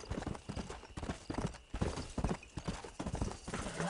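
Horse hooves clip-clop at a steady walking rhythm in the Red Dead Redemption video game, repeated close thuds that carry on through the whole stretch, fairly quiet, with no talk over them.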